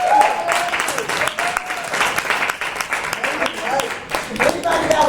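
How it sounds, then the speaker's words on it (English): Audience applause at a community organization board meeting, a lively burst of clapping from a modest crowd with a few voices mixed in, steady for several seconds. "applause."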